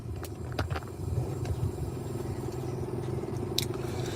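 Steady low road rumble inside a moving car, with the engine and tire drone continuous throughout, plus a few faint clicks and rattles, and no one talking.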